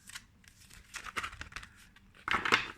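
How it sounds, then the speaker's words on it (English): Large, good-quality tarot cards being shuffled by hand, giving papery riffling and crinkling bursts that come in uneven clusters, with a louder flurry near the end; no voices. "They shuffle very nicely, you see, like this."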